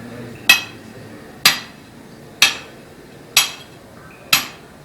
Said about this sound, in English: One of you holds and turns the steel while the other strikes it with an 8-pound hammer.